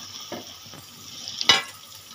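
Fried rohu fish pieces go into a pan of sizzling spice masala for a Bengali fish curry, a low steady fizz broken by soft stirring knocks and one loud, sharp sizzling burst as the fish hits the oil.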